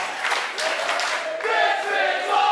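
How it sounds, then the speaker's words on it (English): An arena crowd at an RWA Hype wrestling show cheers and roars in a loud, sustained wash of voices. "Listen to this crowd here"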